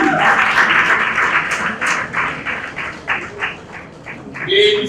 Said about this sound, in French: On applaudit très fort pour